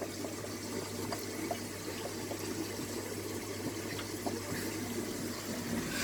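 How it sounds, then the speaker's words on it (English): Steady aquarium filter drawing water through a marimo moss ball used as a pre-filter, a continuous soft watery rush with a low hum running throughout, fairly quiet and unbroken. "it's literally sucking the water through that"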